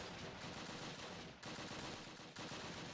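Gunfire rattles on and off in the Close Combat video game, a dense roar of continuous automatic shooting broken by two short gaps. The volume stays steady and fairly distant, with no talking.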